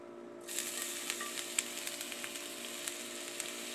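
Ginger hitting plenty of hot oil in a pan for fried rice, a sudden bright sizzle starting after a brief quiet moment and then hissing steadily with small pops and crackles.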